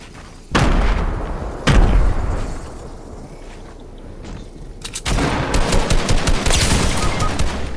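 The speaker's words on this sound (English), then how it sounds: "they're gonna shoot" Fortnite gunfire in a duos match erupts in loud sharp blasts followed by sustained rapid shooting and booming impacts, close and dense, with no talk over it.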